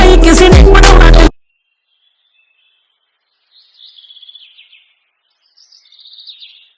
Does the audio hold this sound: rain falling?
no